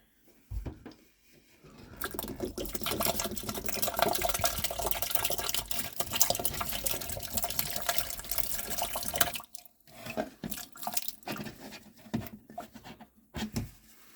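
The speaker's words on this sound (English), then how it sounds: "I'm going to pour the bottle in here" A bottle of cleaner is poured into a water softener, giving a loud, steady gush of liquid splashing for several seconds, then a few softer trickles and drips as the pour tapers off, with no talking.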